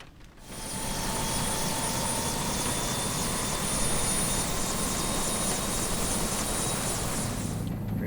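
Helicopter engine in Microsoft Flight Simulator 2020 spinning up to a steady, loud whine with a rising high-pitched turbine tone over dense broadband rotor roar, continuous and close throughout.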